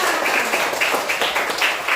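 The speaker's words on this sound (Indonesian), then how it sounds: "tepuk tangan untuk kita semua" Classroom applause as a teacher invites everyone to clap, a steady dense patter of many hands with a few stronger bursts standing out, close and moderately loud throughout.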